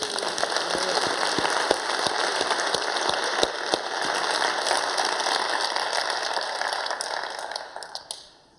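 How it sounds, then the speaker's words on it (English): A large audience at the Skoll World Forum 2017 closing ceremony breaks into long, dense applause, a continuous rain-like patter of many hands with a few sharper nearby claps, tapering off at the end. "I think you deserve some applause."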